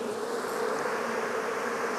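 Honey bees swarm around an active hive, a dense, steady buzzing drone that stays loud and close throughout with no pauses.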